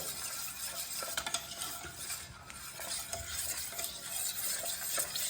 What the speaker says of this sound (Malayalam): ഫ്ലെയിം ഓൺ ആക്കുന്നതിന് മുന്നേ നമുക്കിതൊന്ന് മിക്സ് ചെയ്യാം